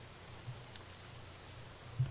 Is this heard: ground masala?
no